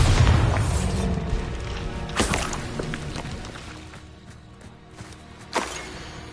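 A Bombarda spell explodes in Hogwarts Legacy, with a heavy booming blast at the start and two more sharp bursts later, each trailing off into a low rumble amid game ambience.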